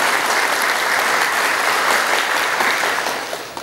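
An audience at a tribute event honouring a veteran Ethiopian journalist claps in a dense, sustained burst of applause that stays loud and even before tapering off at the end.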